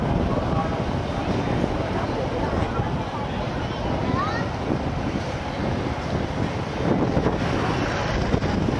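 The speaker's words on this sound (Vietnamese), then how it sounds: "Gió thổi từ biển lên mát quá" Sea wind at a crowded night-time Dinh Cô festival in 2024 buffets the microphone in a continuous rough rumble and roar, with voices mixed into the blustery noise.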